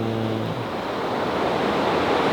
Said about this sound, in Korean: 오늘 파도가 예술이네요.